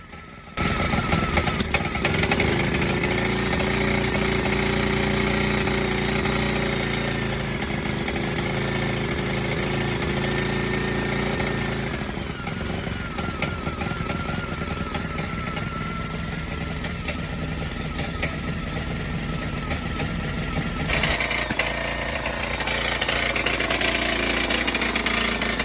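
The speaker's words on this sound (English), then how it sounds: "I let it idle for a good 20 minutes to assess the goodness of the oil leak fixes." A restored Suffolk Super Punch 17-inch lawn mower petrol engine idles steadily and loudly up close, a continuous mid-pitched chugging drone that holds for the whole stretch with slight shifts in tone.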